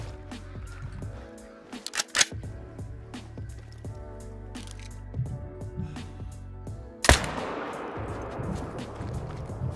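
A single sharp rifle shot rings out during a deer hunt in Call of the Wild, loud and close, with a brief echoing tail after scattered softer clicks and movement sounds.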